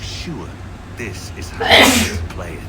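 A person sneezes once, a sharp burst at close range, amid speech and video game sound from Assassin's Creed III.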